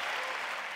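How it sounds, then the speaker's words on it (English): A conference audience applauds a speaker on social activism, a short, dense burst of many hands clapping at once, steady and fairly loud with no voices over it. "This time you can clap."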